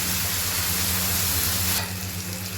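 Finely chopped tomato frying with onion and ginger garlic paste, a dense close sizzle that drops slightly in loudness near the end.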